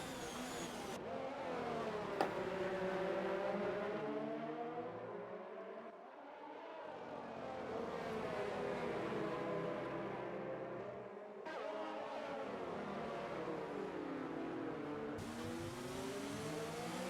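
Race car engines in an F1 video game, a high, buzzing whine that climbs and drops through repeated gear shifts and lifts, heard steady and fairly faint with no talking.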